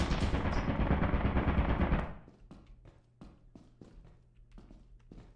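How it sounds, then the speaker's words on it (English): Turrets in Lethal Company open with a dense, loud burst of rapid automatic fire lasting about two seconds, then sharp shots and thuds scattered irregularly over a quieter background. "So many turrets."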